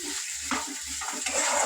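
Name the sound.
spice masala frying in oil in a pan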